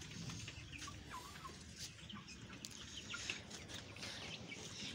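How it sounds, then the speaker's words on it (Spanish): Several chickens, about 25 improved-breed hens in a small rooftop coop, cluck and squawk over a constant background hum, with a few brighter calls popping out here and there. "25 gallinas, ¿no? 25 aves, contabilizando todo."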